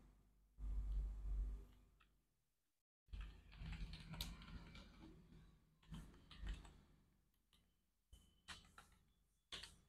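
Keys tapped on a computer keyboard in scattered clusters separated by silent gaps, close and moderately loud, with a few sharper clacks.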